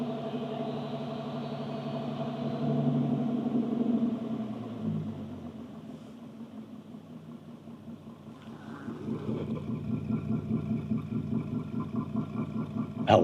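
A 2015 Bentley Flying Spur idling with a low, throbbing burble. It swells and eases, dips quieter in the middle, then returns as a steady rumble that carries on alone to the end.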